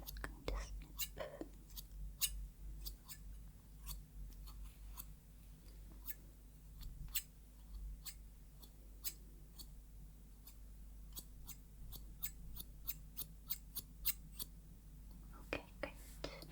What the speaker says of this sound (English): I'm just going to snip.